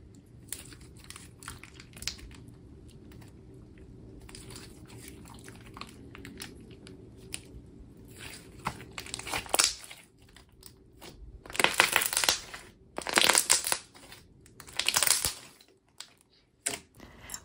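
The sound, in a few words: slime with large foam beads crunching and popping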